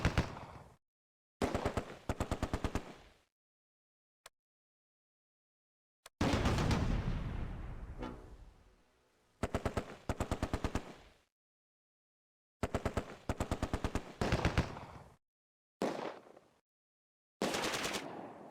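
MG42 machine gun fire in the Close Combat wargame, set in the island tulip fields of Operation Market Garden: repeated rapid bursts of loud automatic fire separated by short silences, with one longer rumbling blast partway through.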